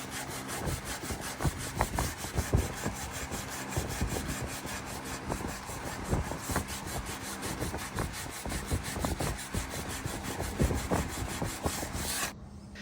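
Sandpaper wrapped around a profile rubs by hand over raw wood furniture in rapid, steady back-and-forth strokes, close and fairly quiet, stopping abruptly at the end.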